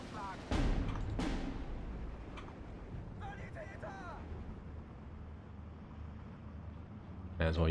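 Artillery barrage in the World War II strategy game Steel Division 2, with heavy booming shots early on, a low rumbling bed throughout, and another loud blast near the end.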